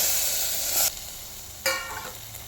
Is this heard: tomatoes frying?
yes